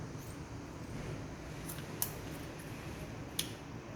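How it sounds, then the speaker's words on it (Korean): Kitchen scissors snip through a fish being split along its backbone for pan-frying, giving two or three short, crisp cuts over a wet, steady background of kitchen noise. "전 할 거면요 이거 가위로 이렇게 가르셔도 돼요."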